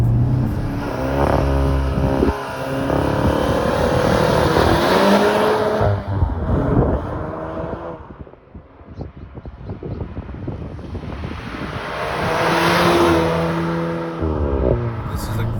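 A VW Mk8 GTI hatchback in sport mode accelerates hard along a winding road, the engine note climbing and dropping through gear changes under wind noise, with a lull in the middle before it pulls strongly again.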